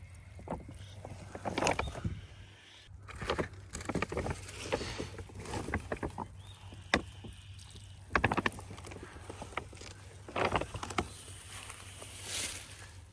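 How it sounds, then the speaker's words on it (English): Water poured onto a sunflower plant in a garden, with close splashing and pattering that comes in irregular bursts and then trails off. "I'm gonna water this one."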